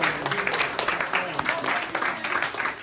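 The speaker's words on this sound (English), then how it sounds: "big applause, please" Audience applause at a Buddhist debate session, a steady wash of clapping from a small group lasting throughout, with voices mixed in underneath.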